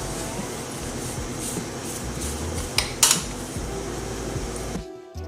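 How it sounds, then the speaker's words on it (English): A spatula scrapes around the sides of a mixing bowl of no-bake dessert mixture sweetened with powdered sugar, a steady rough scraping with a few sharper clinks near the middle, then it stops abruptly near the end. "Just gonna scrape the sides down."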